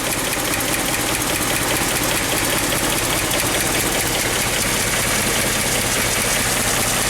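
A 1958 Edsel Citation engine idles steadily and loudly with a dense mechanical clatter of lifter tick running throughout, heard up close and alone.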